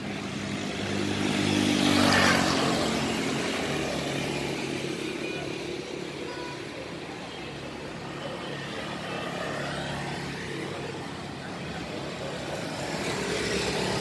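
A Honda Winner V1 motorcycle in orange idles with a steady engine drone that swells into a louder rev around the two-second mark, then settles back to a sustained mid-level running sound with a slight rise near the end.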